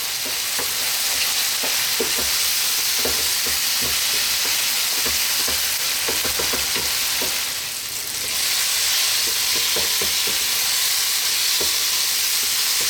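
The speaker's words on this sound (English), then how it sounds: "let's cook that paste out for about another 4 minutes" Tomato paste with paprika and nutmeg frying in a pan on medium heat for shakshouka, a steady loud sizzle with frequent scraping stirs throughout.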